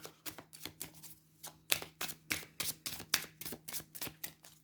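Lenormand and tarot oracle cards are shuffled in a fast, even run of crisp riffling snaps, about a dozen close bursts in quick succession with no talking.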